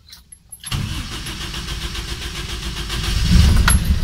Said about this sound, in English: nag-start na ating yung makina